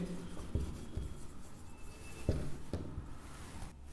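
Pen writing geometry notes on paper, a soft continuous scratching with a few sharper taps and strokes, close and quiet.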